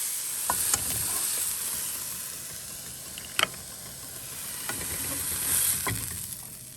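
A pork chop sears in a hot pan with a steady, close sizzle and frying hiss, broken by a few sharp clinks and scrapes of a utensil.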